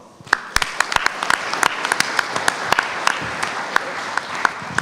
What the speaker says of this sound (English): So please, hand of applause for Ivan.